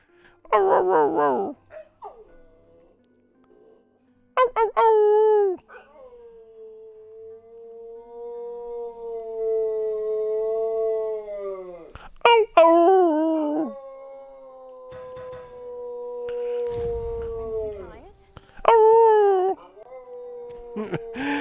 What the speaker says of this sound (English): I got a puppy here that is demanding attention.